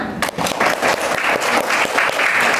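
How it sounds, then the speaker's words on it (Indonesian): Classroom applause for a student group, a dense burst of many hands clapping at once, loud and steady throughout the short stretch. "Beri aplaus untuk kelompok 5."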